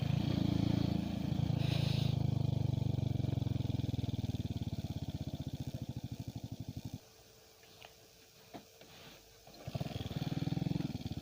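A motorcycle engine revs close by in a loud, throbbing run that drops off suddenly to a low idle and quiet, then surges back up near the end.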